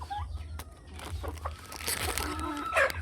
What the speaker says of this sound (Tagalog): Chicken sa ating backyard.